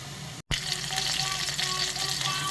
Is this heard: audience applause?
no